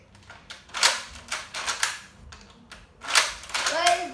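A Nerf toy gun fired toward a camera indoors, several sharp close plastic snaps and pops in an irregular sequence, with faint voices in the background.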